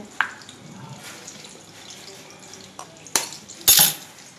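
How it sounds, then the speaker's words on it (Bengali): An egg cracked against a hard edge during home breakfast cooking in a kitchen, giving a few sharp, close taps and cracks spread over quiet background clatter, with no talking. "ডিমটা ফাটাচ্ছে"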